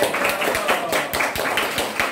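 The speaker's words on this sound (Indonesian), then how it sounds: "Ya, tepuk tangan untuk Dede" Classmates clap together in a classroom for a student after a presentation, a dense, steady patter of hands lasting a couple of seconds, with talk mixed in.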